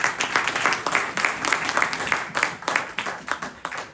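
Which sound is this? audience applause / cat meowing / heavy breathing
audience applause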